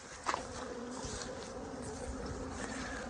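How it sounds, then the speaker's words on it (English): A swarm of bees just shaken onto a hive body outdoors, with a steady, dense buzzing drone throughout and a brief louder burst near the start. "So we just shook the bees directly on top of the hive body"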